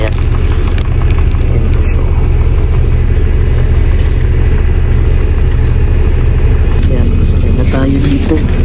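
A school bus, the child's school vehicle, idles steadily with a low, continuous engine rumble close by, muffled voices murmuring underneath throughout.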